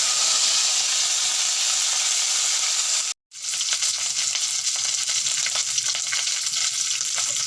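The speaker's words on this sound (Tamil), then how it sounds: "லைட்டாக கடுகு போடணும் கடுகு பொட்டி வந்ததும் கருவேப்பிலை போடணும்" Mustard seeds and curry leaves fry in hot oil, making a loud, dense sizzle and crackle. The sound drops out for a moment, then comes back with sharper spattering pops.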